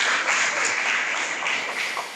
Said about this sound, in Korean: 일단 한번 박수 부탁드리겠습니다.